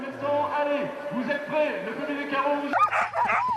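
Sled dogs at a race yip, whimper and bark in short bursts under a narrator's voice, with the barks growing busier toward the end.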